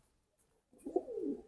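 Domestic pigeons of the kind kept for flying give a soft, low cooing call, close by, in the second half after a near-silent start, with no voices.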